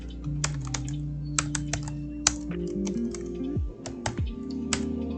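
Keystrokes on a computer keyboard while a code comment is typed for a C++ array lesson, a steady run of light clicks at close range with a low hum underneath and no talk.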